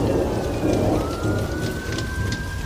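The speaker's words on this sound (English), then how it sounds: "And then King Lear had his storm." Steady heavy rain pours down in a stormy downpour, a dense continuous hiss with low rumbling beneath and a faint distant tone drifting through, with no voices.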